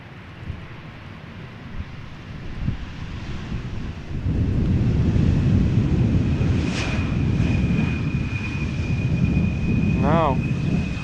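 Embraer 175 jet airliner landing at Amsterdam Schiphol, its engine roar swelling from distant rumble into a loud, steady broadband rush with a thin high whine, wind buffeting the microphone throughout.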